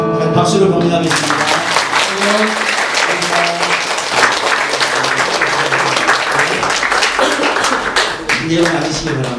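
A church congregation breaks into loud, sustained applause during a Palm Sunday service, dense clapping filling the room after singing fades at the start, with some voices mixed in underneath.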